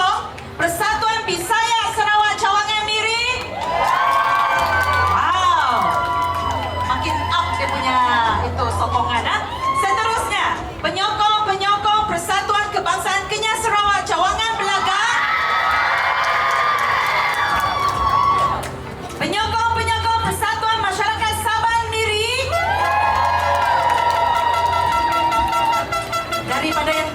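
Supporters cheer, scream and shout at an Orang Ulu long dance competition in Miri, Sarawak, loud waves of crowd noise rising and falling throughout, with an announcer talking and a low drum-like pulse underneath.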